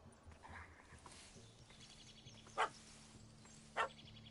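A puppy in a PS4 video game barks at a cat that has fled up a tree, two short, separate barks over quiet background ambience, fairly faint and somewhat distant, with no voices.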